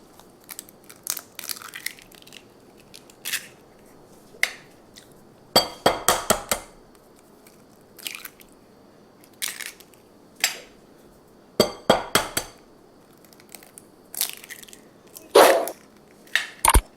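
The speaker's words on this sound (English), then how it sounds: "now I'm going to put 4 eggs in here." Four room-temperature eggs cracked into a bowl: a series of sharp, close taps and crunches against the rim, some in quick double or triple clusters, separated by quiet pauses.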